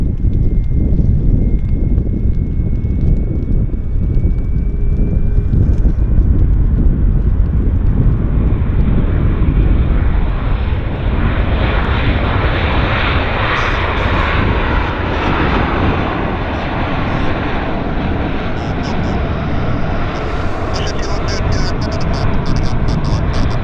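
An Air North Boeing 737-500 without winglets lands at Vancouver on a wet runway, a loud, steady engine and airflow roar close by that lightens slightly toward the end as a voice talks over it.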